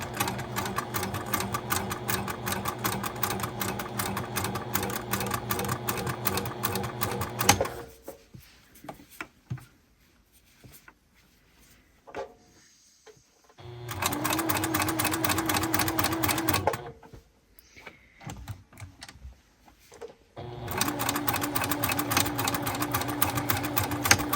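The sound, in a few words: sewing machine stitching a bra repair patch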